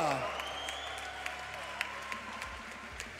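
Applause for two young kickboxers, ages eight and nine, at a K-1 kickboxing event, a steady wash of clapping from the crowd that continues throughout.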